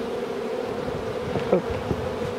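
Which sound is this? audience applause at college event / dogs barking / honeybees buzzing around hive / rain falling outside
honeybees buzzing around hive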